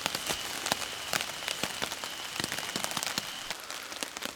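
Heavy rain drumming on a camping tarp strung over a hammock on a trail hike, a dense, steady patter of close drops with sharper individual hits scattered throughout, faint and continuous with no voices.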